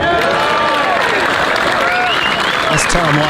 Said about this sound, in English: some good applause